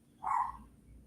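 A single short dog bark carries in from outside the window on a night-time evening, faint and distant, with no talk over it.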